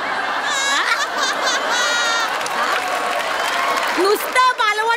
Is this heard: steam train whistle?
no